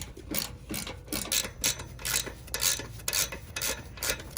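A socket wrench ratchets in rapid, repeated bursts while a trailer hub is taken off a kayak trailer, close and fairly quiet, with short pauses between strokes.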